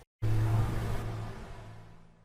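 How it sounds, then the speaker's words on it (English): A short snippet of background noise sent through an EOS reverb for a League of Legends Ryze sound design. It bursts in after a brief silence, then a dark, hazy wash slowly decays and thins out. "I actually took a small snippet of the background noise"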